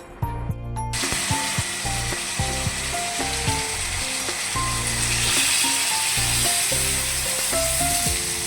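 Food fries in a pan in a home kitchen, giving a steady, loud sizzle with light stirring and scraping. Background music plays throughout.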